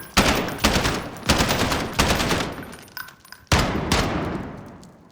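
Automatic weapon fire in Call of Duty Modern Warfare, shot close to a wall so the ejected shell casings bounce off it: four loud, sharp bursts of rapid shots separated by brief pauses, with faint metallic clatter between them.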